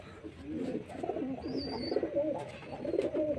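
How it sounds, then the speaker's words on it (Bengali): A male pigeon coos in soft, throaty, repeated phrases close by, over a low background hum, with one brief higher-pitched sound in the middle. "আর একটা পায়রা নিয়ে নিয়েছি, এটাও নর পায়রা"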